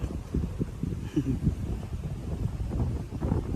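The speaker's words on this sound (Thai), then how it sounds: "ลมแรงนะครับ" Strong storm wind buffets the microphone at a natural fishing spot, gusty low rumbling bursts that rise and fall throughout, loud and close, with a voice briefly heard.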